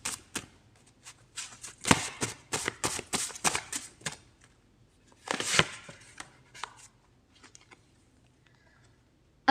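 Tarot cards shuffled by hand: a quick run of crisp riffling slaps, a brief pause, then a second burst and a few scattered taps, close and clear against a quiet background.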